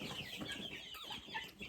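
Laying hens cluck steadily at close range in a backyard homestead setting, with soft overlapping calls and scratching sounds continuing throughout, and no one speaking.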